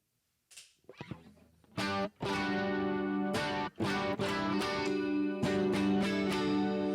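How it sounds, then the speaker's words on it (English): An electric guitar played through an older stereo chorus pedal on its tri-chorus setting rings out in strummed chords, each one sustaining with a shimmering, swirling wash between short breaks. "This is the tri-chorus setting. It's one of my favorite settings."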